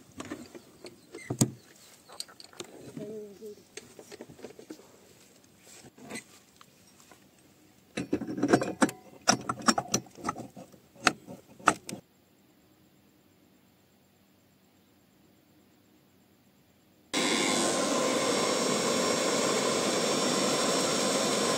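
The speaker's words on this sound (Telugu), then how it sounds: "మోటార్ అయితే ఇప్పుడు మనం ఆన్ అయితే చేసేద్దాం అనమాట." A repaired three-phase 5 HP agricultural motor switched on: after sporadic clattering and handling knocks, then a quiet pause, the motor starts abruptly into a loud, steady broadband roar that runs unbroken to the end.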